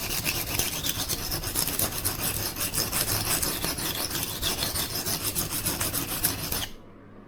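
A knife blade rasps steadily back and forth across a Norton sharpening stone, a loud, continuous gritty scraping with a quick stroke rhythm for several seconds before stopping abruptly.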